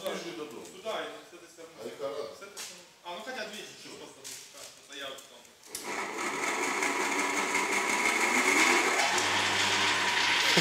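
An electric motor of about 2.2 kW starts up mid-clip and settles into a steady, loud whirring hum, after several seconds of people talking nearby.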